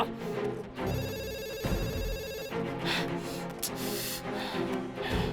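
A telephone bell rings in a bright electronic trill for a couple of seconds, then cuts off, leaving soft rustling and faint noise.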